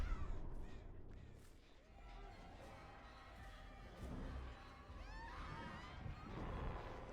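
Crow cawing in Dead by Daylight during a competitive match, a few harsh calls over a busy, continuous game soundscape with ambient noise and footsteps, moderately loud throughout.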